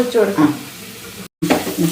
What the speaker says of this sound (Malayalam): വെള്ളം ചട്ടിയിലേക്ക് ഒഴിച്ചു കൊടുക്കാം